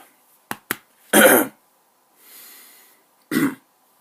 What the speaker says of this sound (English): Sorry, I need to clear my throat for a second.